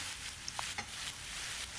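Tomatoes fry in a pan and are turned once or twice, giving a soft, steady sizzle with a few light clicks of stirring, faint and close, with no talk.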